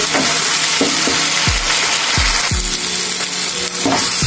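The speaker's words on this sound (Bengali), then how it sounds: "মশলাটা আমার প্রায় ভাজা হয়ে গেছে।" Spice masala with Kashmiri chilli powder fries in hot oil for a Bengali fish curry, giving a loud continuous sizzle. Several scraping stirs and knocks sound against the pan.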